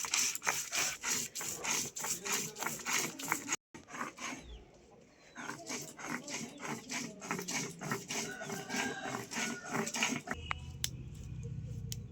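Cumin seeds and three pieces of ginger ground together into a paste on a grinding stone. Close, repeated rasping strokes in a steady rhythm, with one brief pause partway through.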